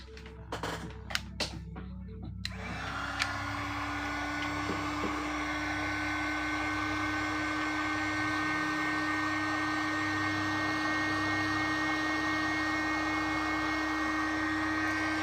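A hair dryer starts after a few clicks and handling knocks, then blows steadily with a loud, even whine, drying lettering paint, no talk over it.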